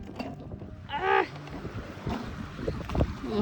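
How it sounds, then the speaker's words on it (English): Strong gusts buffet a microphone outdoors along the Yellowstone River, making low rumbling thumps and rushes that rise and fall, with a brief burst of muffled speech partway through. "I'm sorry for the wind noise"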